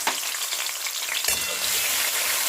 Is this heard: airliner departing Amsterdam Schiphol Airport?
no